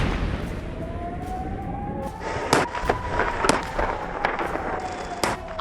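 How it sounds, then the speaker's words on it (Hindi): Continuous explosions in the Poskot area of Odisha: sharp cracking blasts go off one after another over a steady rumble, with a rising siren-like tone in the background. "ओडिशा के पोस्कोट इलाके में लगातार धमाकों ने जमीन हिला दी।"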